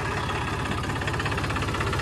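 A John Deere 5310 tractor in showroom condition idles steadily, a close, even diesel rumble with a rapid knocking pulse throughout and no talking.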